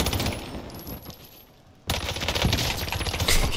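Rapid bursts of Cooper Carbine fire in Call of Duty Warzone, dense automatic rattling that stops briefly and then resumes even louder, with no talking.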